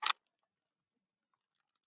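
One quick, crisp snip of small scissors cutting open a candy package sounds at the start, then near silence with only faint small rustles.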